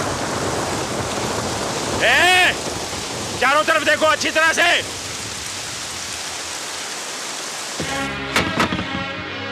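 Steady rain pours down outdoors beside a thatched shelter, a constant wash of hiss under several bursts of loud shouted speech; no distinct thunder clap stands out.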